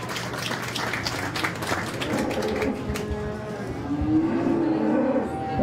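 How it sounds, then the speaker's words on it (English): A crowd claps in a dense, steady patter at a county fair beef show, while cattle low in the background and a voice is heard faintly. "Let's give Gary another round of applause for coming out and judging our fair."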